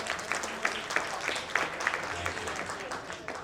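Audience applause at an album launch for a song, a steady wash of clapping with some sharper individual claps, moderately loud throughout under a murmuring crowd.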